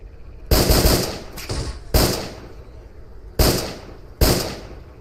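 Gunshots from the video game Stalker Clear Sky ring out in five sharp bursts at irregular intervals, some short double shots, loud and close over a faint steady background hum.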